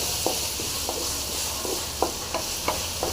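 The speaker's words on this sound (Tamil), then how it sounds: "கண்ணங்கத்திரி நல்லா ஃப்ரை ஆகுது" Turkey berries frying in a spicy masala, a steady close sizzle with occasional soft stirring scrapes and taps of a spoon in the pan, no voices.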